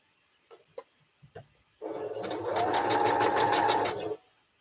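A sewing machine stitches a seam just beside a marked line, a short steady burst of rapid needle whirring of about two seconds that starts after a few light clicks and then stops cleanly.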